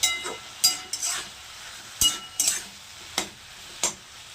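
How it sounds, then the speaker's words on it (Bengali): Pumpkin leaves frying dry in a pan, with a steady close sizzle broken by repeated sharp scrapes and clinks of a spatula stirring against the metal. "এখন পাতাটাকে আমি কিন্তু ভেজে নেব শাকটাকে ভেজে নেব"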